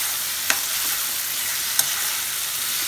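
Potatoes sautéing in a pan for a CKP dried prawn curry (sodyache kalvan), a steady bright sizzle throughout with two sharp clinks of a spoon against the pan, no voices.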